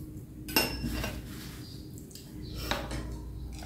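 Metal utensils clinking against a bowl while stirring sardine noodle soup, with a few light taps and scrapes, close and quiet.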